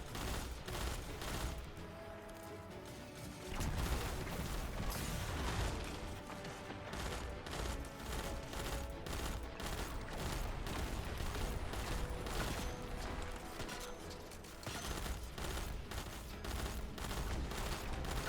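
Sustained turret gunfire and weapon fire in the Destiny Grandmaster Nightfall Arms Dealer, a dense continuous barrage of rapid shots and impacts throughout, no talking.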